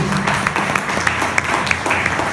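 A church congregation claps for newly baptized members, a dense, steady patter of many hands filling the room at close range, with some faint voices mixed in.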